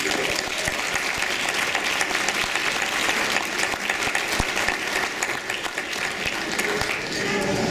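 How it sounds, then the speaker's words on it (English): Guests at a wine dinner honoring families applaud, a continuous, full roomful of clapping at steady loudness with faint voices underneath. "Let's give them a round of applause."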